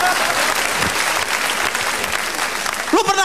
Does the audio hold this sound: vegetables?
no